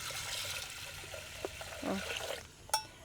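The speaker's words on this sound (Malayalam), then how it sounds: "ഇനി ഇതിൽ വേകാനുള്ള വെള്ളം ഒഴിച്ചു കൊടുക്കാം." Water is poured into a pressure cooker holding green gram and rice for Kerala payaru kanji, a faint trickle and splash over quiet room noise.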